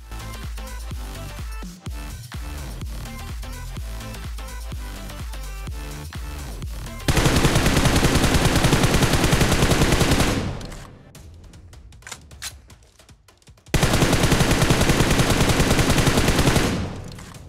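Rapid automatic gunfire in the mobile battle royale game BGMI, loud sustained bursts with a quieter gap between them, no talking over it.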